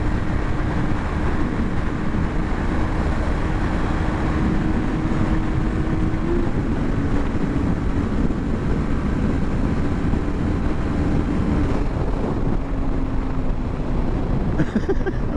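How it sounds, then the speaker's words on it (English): A 2023 Suzuki GSX-250R motorcycle engine runs at full throttle, a loud steady drone buried under heavy wind rush, with a faint tone slowly falling over time and no talking. "I was legit full throttle on this bike."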